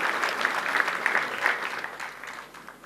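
Sustained audience applause at a Maha Shivratri devotional gathering, a dense, steady clapping that fills the whole stretch and fades slightly toward the end.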